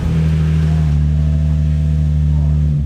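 Baja build truck engine with short mufflers running at a steady idle, a low droning rumble that holds close and fairly loud throughout with no talking over it.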